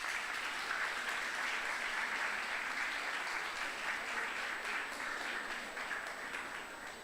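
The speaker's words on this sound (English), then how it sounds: "let's give a big round of applause to Sir Ricardo Ponce" Steady audience applause fills the whole stretch at an English Day event, dense and sustained clapping from a crowd that tapers slightly toward the end.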